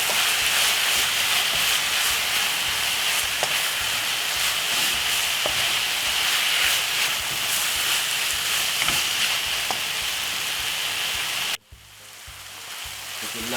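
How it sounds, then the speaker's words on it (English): Seasoned beef sizzles and fries in a pan, a loud, continuous hiss broken by faint scrapes of stirring, before the sizzle suddenly drops off and softly builds again near the end. "beef season. With a nice little stir."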